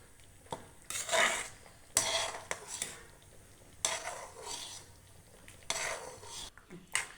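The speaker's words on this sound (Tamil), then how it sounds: "இப்போ ரவையை இப்படி கொட்டிக்கிட்டே கிண்டணும்" A spoon scrapes and stirs semolina (rava) in a metal pot as it is poured in for rava kichadi, in short, rough bursts with quiet gaps.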